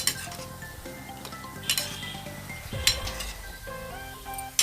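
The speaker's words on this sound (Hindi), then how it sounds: "इस प्रकार से इसे चलाते रहना है और इसको ब्राउन होने तक फ्राई करना है।" Gulab jamun frying in oil in a pan over a medium flame, stirred with a utensil: metallic clinks and scrapes against the pan at irregular moments over a soft sizzle, with no talking.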